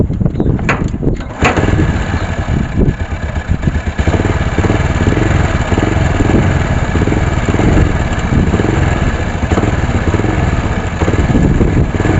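A motorcycle engine with its tappet cover removed is kick-started, sputters through a few uneven bursts, then settles into a loud, close, steady idle with a low chugging throb.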